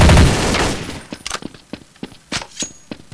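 Rapid video-game gunfire in an online shooter: a loud opening burst followed by a string of sharp, close shots in uneven clusters, with no speech over them.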